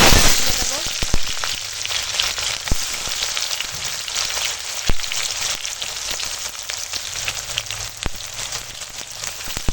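Onions and green chillies frying in the same oil the potatoes were fried in, a loud, dense crackling sizzle with sharp pops and spatters throughout, close up and with no talking.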